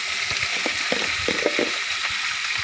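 Vegetables being stir-fried in a pan, a loud, constant hiss of sizzling oil with faint scraping and stirring clatter mixed through it, near and continuous.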